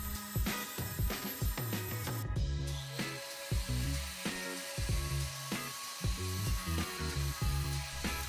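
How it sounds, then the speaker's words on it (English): Wire brush attachment on a power tool grinding rust off a steel disc, a continuous loud whirring scrape with rhythmic surges as the brush bites, close and steady throughout. "we use this wire brush attachment to get the majority of the rust off the disc"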